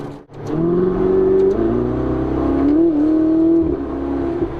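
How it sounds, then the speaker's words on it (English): A 2018 Ferrari 488 Spider engine in race mode revs at about half throttle and holds a deep, throaty exhaust note, rising and dipping in pitch, heard up close without any talking. "if we put it into race mode, you hear that exhaust"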